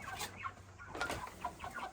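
Broiler chickens cluck softly in a shed, a few faint overlapping calls over a low background hum with no talking.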